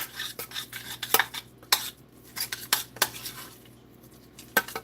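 A spoon scraping and knocking against a pot while refried black beans with lemon zest are stirred, a quick irregular run of close metallic clinks and scrapes with quiet gaps between.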